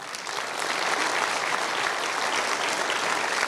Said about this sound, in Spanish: Sí, dale ese aplauso grande al Señor.